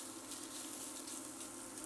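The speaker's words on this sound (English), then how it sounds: "we're just going to saute this up for about 3 minutes" Meat sautéing in a pan for jambalaya gives a quiet, steady sizzle with soft hissing crackle, even and continuous throughout, with no talk over it.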